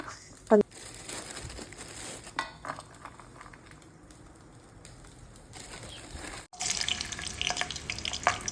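Food frying in a home kitchen pan sizzles amid utensil clatter, crinkling packaging and short bursts of handling noise, with a louder rustle near the end.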